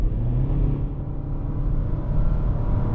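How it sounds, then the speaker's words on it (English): A 2025 Hyundai Tucson slowing down as its automatic transmission downshifts, heard from the cabin as a steady low engine and road rumble with no distinct rev changes, continuous and moderately loud. "Let me just kind of slow her down a little bit, see if she'll downshift for us."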